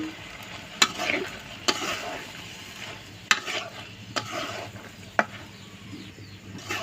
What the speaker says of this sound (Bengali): এখন এই কষলার মধ্যে মানে কষা মশলার মধ্যে এই সিদ্ধ